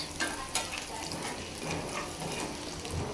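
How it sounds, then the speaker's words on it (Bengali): Garlic, onion, panch phoron and dried chilli sizzling in hot oil for a tempering, a steady close crackle and hiss with stirring throughout. "এখন বাগার দিব। এখানে রসুন পেঁয়াজ একটু পাঁচফোড়ন দিয়েছি, আর শুকনো মরিচ।"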